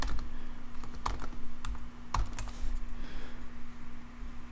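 Scattered keystrokes on a computer keyboard while logging into an account and editing a Ruby on Rails workout app, a few sharp clicks in short bursts over steady room hum.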